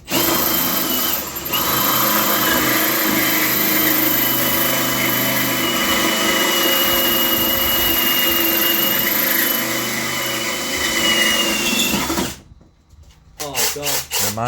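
A power drill drilling into a wall while an electrician fits a BG Fortress consumer unit, running steadily and fairly loud for about twelve seconds, then stopping abruptly before a few short clattering handling sounds.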